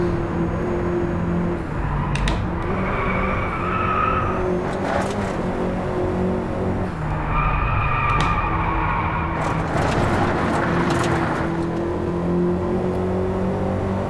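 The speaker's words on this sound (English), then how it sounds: "sound of this car is more or less, I find, the same as that Audi" A racing car engine in the video game Driveclub roars continuously, revving up and down through gear changes with occasional tire squeals, with no one talking.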